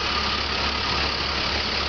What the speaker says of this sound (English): The Bernie engine 447 is operating these last two tanks.